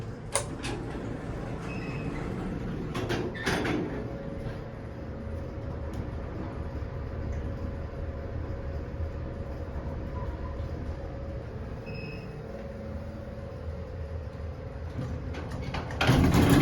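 Vintage Otis traction elevator in a four-floor building in Oak Park, Illinois, with a steady machine-room rumble and hum running throughout, broken by a couple of clattering door movements early on and a louder thump of the doors near the end.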